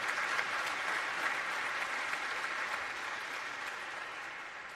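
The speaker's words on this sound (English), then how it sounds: "So yes, give them a round of applause." An audience gives a sustained round of applause, a steady wash of clapping that holds for several seconds and fades slightly toward the end, with no talk over it.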